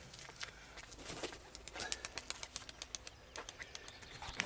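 Pigeons at a pigeon and bird fair in Severodonetsk coo softly while wings flap in quick rhythmic bursts, as a flock takes flight and circles nearby under light ambient noise.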